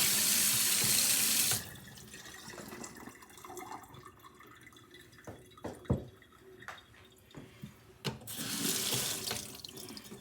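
Tap water runs and splashes onto a whetstone during splash-and-go sharpening, a steady gush at the start, then quieter drips and clinks, and the flow returns near the end; no one speaks.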